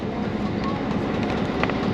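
A train rolling along the rail line near a rail yard, a steady rumbling roar with faint rattling, heard close and continuous with no talk.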